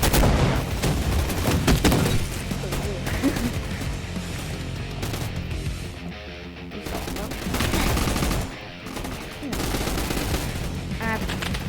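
Rapid automatic gunfire in a Roblox gun fight arena, dense repeated bursts of shots running almost continuously, loud and close, with brief lulls and some faint game effects mixed in.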